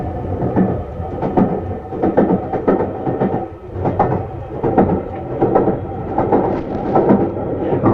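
A train runs on rails with a heavy, continuous rumble and a regular clickety-clack rhythm of wheels over rail joints, loud and close as if heard from inside a carriage.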